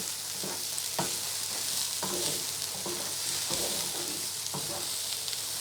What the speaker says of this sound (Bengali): এখন এটা পেঁয়াজের সাথে 1-2 মিনিট ভেজে নিব।